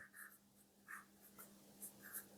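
Short strokes of writing on a board come in quick bursts during a fitter theory class on the bench vice, faint and close with brief pauses between marks and no talk.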